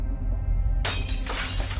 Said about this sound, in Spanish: Desesperado, el papá de Graciela rompe un vidrio y entra a la casa.